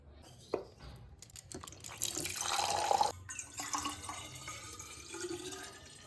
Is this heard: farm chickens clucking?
no